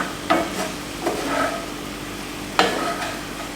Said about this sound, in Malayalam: ഇനി ഞാനിതിലേക്ക് ബ്രെഡ് നമ്മൾ കട്ട് ചെയ്ത് വെച്ചത് ആഡ് ചെയ്ത് കൊടുക്കുകയാണ്. എല്ലാം നന്നായിട്ടൊന്ന് ടോസ് ചെയ്ത് എടുക്കുകയാണ്.